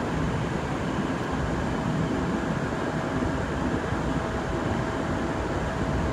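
A three-car N465 train rolls past in a steady, rumbling roar that continues without pause, broad and noisy throughout.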